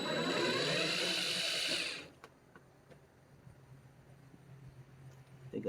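A drill fitted with a 10mm socket spins a bolt out of an 02 Mustang, a close, steady high whir for about two seconds that stops abruptly, then faint handling clicks follow.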